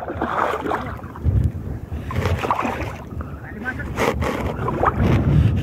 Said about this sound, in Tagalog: Bad weather ngayon, malakas ang hangin.